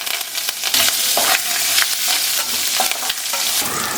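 Curry leaves hit hot oil with mustard seeds, green chilli and crushed garlic in a pan for a traditional Karnataka leafy greens curry, giving a loud continuous frying sizzle with crackling pops and stirring scrapes, no voices.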